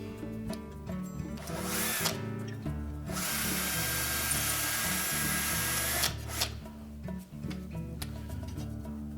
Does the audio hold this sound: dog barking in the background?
no